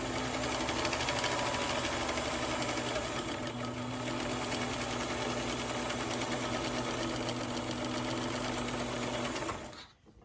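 A sewing machine stitches the seam of a quilt block with a steady, continuous mechanical whir for about ten seconds before stopping abruptly.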